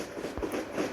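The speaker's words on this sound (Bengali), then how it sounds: "এখান দিয়ে আরেকটা ট্রেন যাচ্ছে।" A train rolls past in the video game Train Simulator Bangladesh, a steady rumbling wash with a soft clatter of wagons over the rails, moderately loud and close for the whole second.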